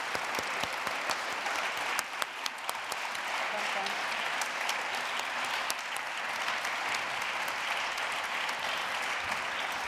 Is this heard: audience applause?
yes